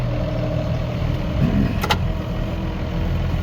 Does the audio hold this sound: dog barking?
no